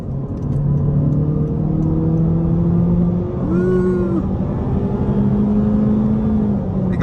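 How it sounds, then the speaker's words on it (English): A 2024 Honda Civic Sport engine revs hard under acceleration, its pitch climbing steadily toward a high redline with a brief dip at a shift, loud and continuous from inside the cabin with road rumble underneath. "It goes all the way up to the top of that red line too. It's a screamer."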